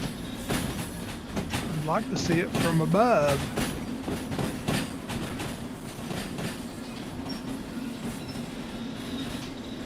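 A long freight train of about 2000 tons, hauled in the video game Derail Valley, rolls steadily on its rails with a continuous rumble, wheel clacks and brief squeals, while someone talks over it.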